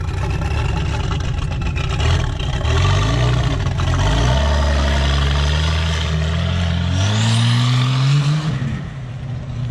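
A V12 bi-turbo pulling tractor engine roars loudly and steadily, its deep drone climbing in pitch in stages as it accelerates hard, with no talk over it.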